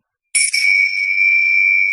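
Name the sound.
Tibetan prayer bells ringing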